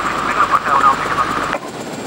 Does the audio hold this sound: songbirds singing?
no